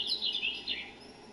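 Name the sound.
bird chirping in video game PGA Tour 23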